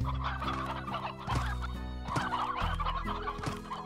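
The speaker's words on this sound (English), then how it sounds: "This place just has chickens galore." Chickens clucking in the Slime Rancher video game, a dense overlapping flock of repeated clucks and short calls at steady volume over a low game-music drone, with no talking.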